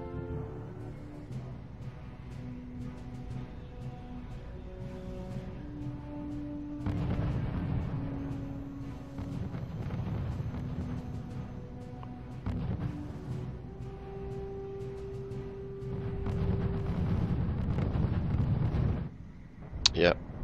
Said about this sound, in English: Now the Pushkas are shooting at the AT guns and just took down almost all of them.